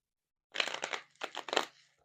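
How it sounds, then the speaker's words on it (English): A deck of cards is shuffled during a tarot reading. Two quick riffling bursts of flicking, fluttering card edges sound close and crisp, with a short pause between them and no talk. "that's the last shuffle, Gemini."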